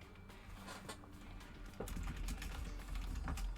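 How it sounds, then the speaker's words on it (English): Faint, quick clicks of typing on a computer keyboard come in irregular bursts over a low steady hum, growing slightly louder partway through. "Am I just typing shit for no reason?"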